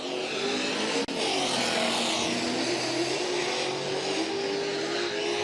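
Rear-wheel-drive drift cars at a drifting event roar at full throttle in what is probably fourth gear down the backstretch, a loud, continuous engine howl with shifting pitch and no break.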